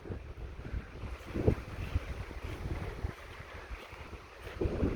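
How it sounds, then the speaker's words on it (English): Low, rumbling wind buffets the microphone in uneven gusts outdoors by a river in a rural wilderness area, cloudy weather, with a faint outdoor hiss beneath and no voices. "it's starting to get windy and cloudy now."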